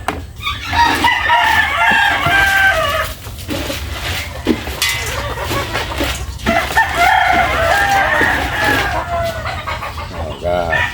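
Chickens cluck and a rooster crows repeatedly inside a chicken coop at feeding time, the birds loud and close, with a person talking at points among them.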